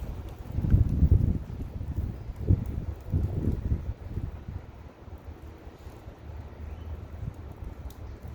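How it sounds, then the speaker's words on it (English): Gusty wind buffets the microphone outdoors, with low rumbling bursts early on that ease into a steadier, quieter roar. "it's kind of windy out here today"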